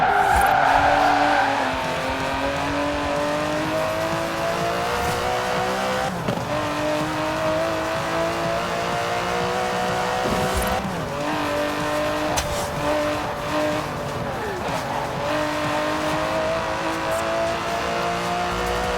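Aston Martin DB11 driving in Forza Horizon 4, its engine droning steadily with gear-shift dips and rising revs, brief tire squeals and skids, loud and continuous throughout.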